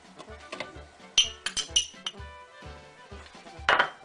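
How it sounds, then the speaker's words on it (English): Brown sugar being stirred into a just-boiled Lebkuchen mixture, with repeated clinks and scrapes of a utensil against the pot or bowl, sharper knocks near the middle and end, and no talking. "you can remove it from the heat and you can stir in the brown sugar"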